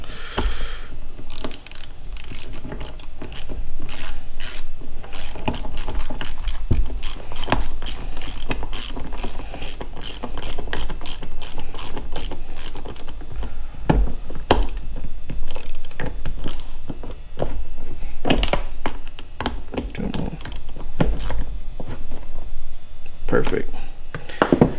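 Ratchet wrench tightening bolts on a Yamaha XJ 750 motorcycle carburetor during a rebuild, rapid bursts of close, crisp clicking that start and stop repeatedly, with someone talking between them.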